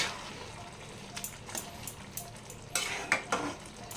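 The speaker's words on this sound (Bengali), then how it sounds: "এরপর মাছটা দিয়ে দিচ্ছি" Prawns go into a pan of simmering ridge gourd whose liquid has cooked down, giving a steady close-up sizzle with a few sharper bursts of frying and stirring scrapes toward the end, no voices.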